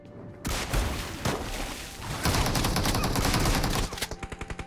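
Sustained, loud gunfire in a PUBG-style battle royale game: dense automatic bursts and booms fill most of the stretch, ending in a rapid string of evenly spaced shots.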